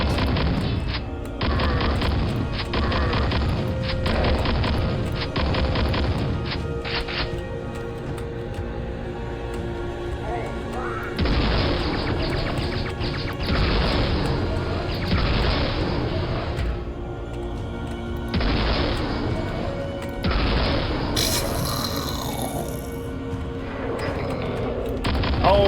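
Grenade explosions in the shooter game Dwell boom repeatedly in heavy bursts, interspersed with rapid gunfire and quieter gaps, loud and close throughout.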